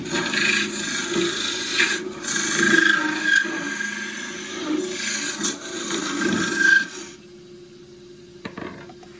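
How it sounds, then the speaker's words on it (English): A wood-turning gouge cuts very hard Tasmanian horizontal scrub spinning on a lathe for a bark box, making a loud, close, rasping scrape with wavering pitch that stops abruptly near the end, leaving near quiet with a faint knock. "Just bring the tool around parallel and then I can just push it straight in like a depth gouge."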